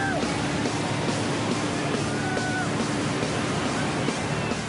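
Ocean surf rolls and breaks continuously while someone rides a surfboard, a steady broad wash of water noise, near and fairly loud, with no speech over it.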